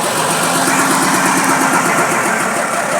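Diesel engine of a Fiat 190 truck running loud and close, a steady rough mechanical roar with a rhythmic low pulse and no voices over it.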